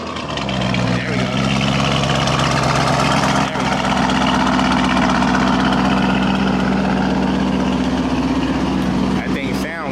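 A Lamborghini engine idles loudly and close by, a steady deep rumble with a low droning pulse that holds for the whole stretch, with voices talking over it.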